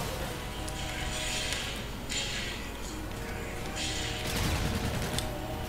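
Dense, continuous gunfire in a Call of Duty Hardpoint match, with overlapping rapid shots and bursts forming a loud, busy wash that swells near the end.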